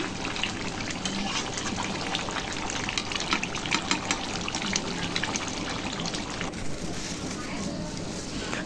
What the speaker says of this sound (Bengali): থাল বাসন ধুয়ে নিতেছে